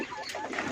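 A hen on a mixed farm gives one brief cluck, fairly close and moderately loud, amid faint background noise.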